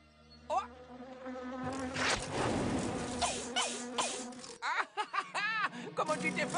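A half-charred fly buzzes in a video game, a wavering insect drone that swells and fades with rising and falling whines, heard beneath chuckling and lively voices.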